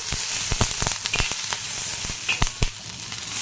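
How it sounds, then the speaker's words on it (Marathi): Green chillies roasting in a little oil on a hot tawa for green chilli chicken, a close, steady sizzle scattered with sharp spitting crackles and pops. "मस्त अशी हिरवी मिरची भाजून घ्यायची।"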